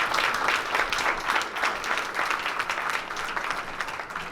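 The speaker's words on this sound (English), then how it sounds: "let's give them applause" Applause from the audience at a city council candidate forum, a steady, moderately loud patter of many hands clapping that continues without a break and without any talk.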